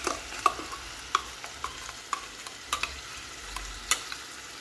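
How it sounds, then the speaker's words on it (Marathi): Ground spice paste for a Goan pomfret curry goes into a pan with a few sharp scrapes and clinks, stirred over a faint, steady sizzle with no one speaking. "आणि आता हे वाटलेला मसाला मी ह्याच्यात टाकणार आहे."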